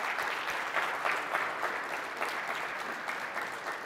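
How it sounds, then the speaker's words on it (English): A large audience at a tech summit applauding steadily, dense clapping that holds a strong even level throughout without any talking. "I want to give all of our partners a big round of applause."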